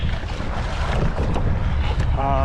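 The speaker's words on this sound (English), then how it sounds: "Windier than it was supposed to be." Strong wind buffets the microphone beside a boat on Lake Mead, a steady loud rush with water slapping throughout.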